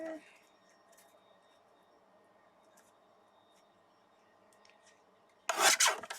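A paper trimmer cuts through gel print paper for cards, a loud, brief rasping slice near the end after a long quiet stretch, with no voice over it.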